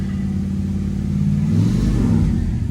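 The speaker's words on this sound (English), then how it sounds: "That is a cold start. Obviously, I gave her a little bit of gas, but let her idle up a little bit." A 1971 Oldsmobile Cutlass engine just after a cold start, running steadily with a low, throaty rumble that swells as the throttle is blipped, then settles toward a high idle, close and loud with no talk.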